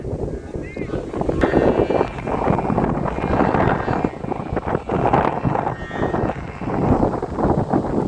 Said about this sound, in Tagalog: Lakas ng hangin mga idol.